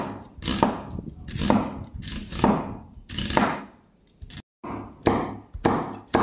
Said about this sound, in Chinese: 再切半个洋葱。